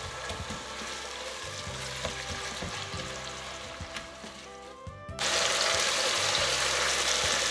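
Leek, garlic, onions and celery cooking in a pan, with a low continuous sizzle and occasional stirring knocks, then a sudden louder burst of frying hiss partway through that continues to the end, close and without talking.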